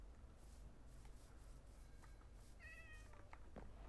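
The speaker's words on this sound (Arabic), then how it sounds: "كنت سامع صوت قطة" A cat meows inside a Minecraft village, a short pitched call of two or three notes heard faintly over a steady low background hum, with no talking.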